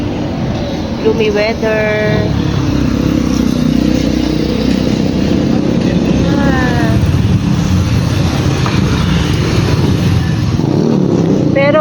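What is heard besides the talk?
road traffic near Saloma Bridge, Kuala Lumpur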